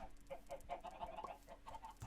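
Chickens in Minecraft clucking in quick, repeated bursts, several birds layered together at close range with no talking.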